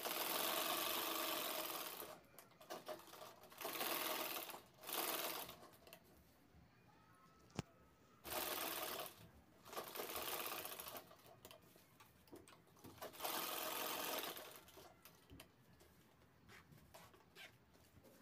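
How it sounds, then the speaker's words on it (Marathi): Sewing machine stitching the pocket of a handmade fabric shopping bag, running in several loud whirring bursts of a few seconds each, separated by brief quiet pauses and one sharp click. "त्यानंतर हे पॉकेट साईडनं तिन्ही बाजूने आपल्याला शिवून घ्यायचं आहे."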